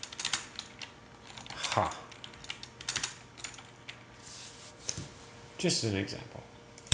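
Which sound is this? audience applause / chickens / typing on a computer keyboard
typing on a computer keyboard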